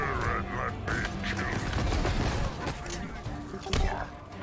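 Bursts of gunfire and impacts in Halo Infinite combat against a brute, with a few sharp hits and crashes scattered through dense game noise while someone talks over the action.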